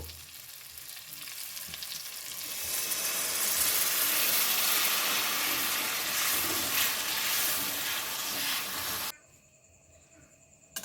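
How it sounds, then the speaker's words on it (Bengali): Steady, loud frying sizzle from a pan of egg omelette curry with spices as water goes in, the hiss swelling and holding for several seconds before dropping away abruptly near the end. "তো এখন পরিমাণ মতো আমি একটু জল দেব।"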